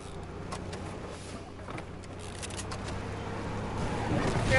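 A car engine hums steadily in Fortnite just after the players get in, a low continuous drone that grows slightly louder toward the end, with no clear speech.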